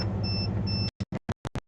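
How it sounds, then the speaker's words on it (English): A vehicle's power inverter beeps after hard braking: a steady high tone over engine hum, then five short, sharp beeps in a quick uneven series, fairly close. "There's gonna be a beeping noise now."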